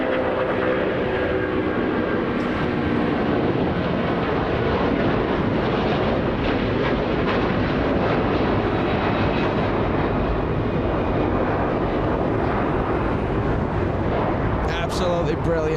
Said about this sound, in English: Rolls-Royce engines powering that A330